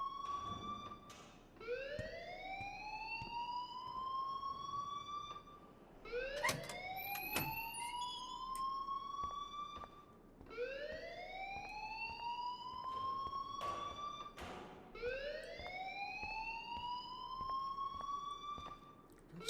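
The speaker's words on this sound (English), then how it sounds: "please turn off that alarm since that's your job" School fire alarm in Life is Strange Remastered, a rising whooping siren tone repeating about every four seconds in four long cycles, steady and fairly loud with faint background noise and no talking.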